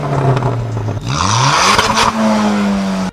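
A 2.0 turbo Audi B7 A4 with a turbo downpipe, 034 Motorsport tune and single mass flywheel revs up close, the engine note climbing and dropping through throttle blips before holding a steady higher drone, with raspy exhaust tone and no talking.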